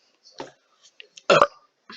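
A short burp lands right into a close microphone, loud and abrupt, set among a few faint mouth noises and brief sounds.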